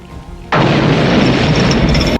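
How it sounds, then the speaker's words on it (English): Explosion in a Western film, a sudden loud blast that bursts in and roars as a dense sustained rumble for under two seconds before cutting off abruptly. "Their conversation is interrupted by an explosion."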